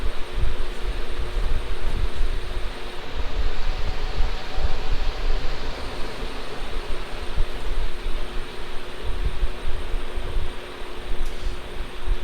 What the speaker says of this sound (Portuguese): Ligou o ventilador.